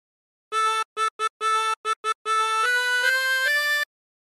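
A harmonica plays the third phrase of the folk tune Drunken Sailor: a run of clean, close-miked reed notes, several short detached ones, then longer held tones that step upward in pitch, played alone.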